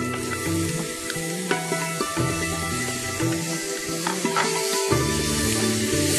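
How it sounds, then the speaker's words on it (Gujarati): Chopped mushrooms sautéing in a pan for a mushroom ravioli stuffing, a steady close sizzle with repeated stirring scrapes and clinks, no talking. "અને એને થોડી વાર સોટે કરશું."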